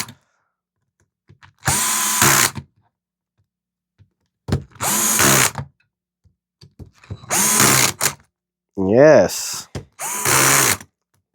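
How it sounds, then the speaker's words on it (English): A power driver tightens screws on a 3Racing Sakura D6 GA RC car chassis in five separate whirring bursts of about a second each, close and loud, with silent pauses between them and a short spoken word near the end. "So we can start tightening these down now."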